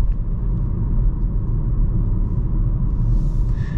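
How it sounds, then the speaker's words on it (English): Volkswagen Taigo 1.0 TSI crossover with DSG gearbox driving in sport mode, heard from inside as a loud, steady low road and engine rumble without distinct revving. "We're going to put it into sport. Then the shifts are a little bit quicker."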